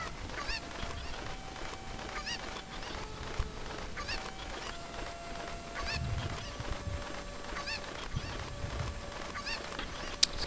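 Cartoonish fowl clucks and squawks from the video game The Legend of Zelda: Ocarina of Time, repeating steadily over a bright melodic game soundtrack with held musical tones, fairly close and moderately loud throughout.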